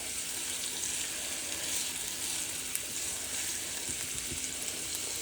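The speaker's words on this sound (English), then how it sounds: "I'm going to just saute the spinach until the leaves are wilted" Spinach sautéing in a very hot pan for a spinach cheese omelette gives a steady, even sizzle with faint crackles, close and constant, no talking.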